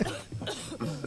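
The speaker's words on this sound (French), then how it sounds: "C'est pas une petite toux en plus" A man's long, heavy cough, several harsh bursts over about a second, close and loud, from someone who is ill.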